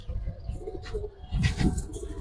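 Fancy pigeons in a loft, including silver, pankhi and army breeds, give a few faint, low throaty coos close by with a soft rustle, and no talking.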